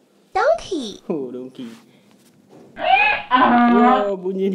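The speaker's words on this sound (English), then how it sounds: "Ini memang bunyi donkey, bukan bunyi mulut orang." A donkey brays loudly at close range at what appears to be a zoo, its harsh rising and falling calls sounding in two bursts, the second long and sustained, with people talking nearby between calls.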